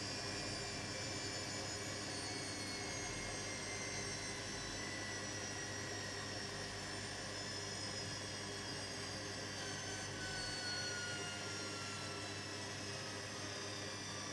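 A Zanussi ZWG7160P washing machine spins up toward 1600 rpm, a steady loud whining drone with a rising high-pitched tone over a constant low hum.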